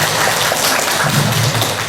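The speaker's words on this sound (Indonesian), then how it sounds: "tepuk tangan dari panitia" An organizing committee at a religious study gathering claps together in a steady, even patter of many hands, fairly loud and close, with a low voice murmuring beneath.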